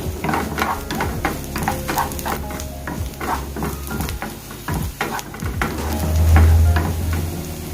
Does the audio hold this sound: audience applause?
no